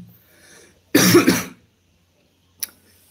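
A few harsh coughs burst out loud and close in a quick cluster, followed after a pause by one short, sharp cough, with near silence around them.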